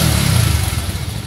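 A motorcycle engine revs loud and close, a throbbing low growl that holds strong and then eases slightly, with no voices over it.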